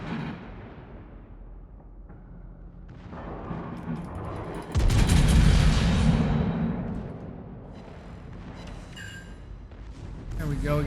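Guns of the German Tier 7 battleship Prinz Heinrich fire in World of Warships, one heavy booming salvo that rolls out and fades over steady engine and sea rumble.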